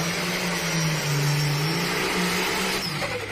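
Pulling tractor revving its engine at the North Iowa Nationals tractor pull, a loud, sustained mid-pitched roar holding steady across the whole stretch, with crowd and arena noise underneath.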